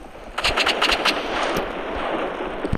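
Rapid bursts of gunfire from a video game weapon that fires three shots almost at once, loud and close, repeating in quick clusters over a constant background roar.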